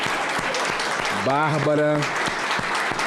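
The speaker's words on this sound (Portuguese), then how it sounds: "aqui aplaudida de pé, a voz da sociedade" Sustained applause from a standing ovation in the Brazilian Senate chamber, dense clapping throughout with a voice speaking briefly over it midway.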